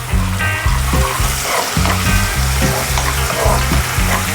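Garlic sautéing in hot oil sizzles steadily and loudly at close range, a continuous frying hiss with faint stirring scrapes and no talk.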